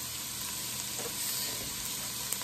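Onions and green peppers sizzle steadily in olive oil in a pot for homemade chili, a continuous, even crackling hiss heard up close with no voices over it.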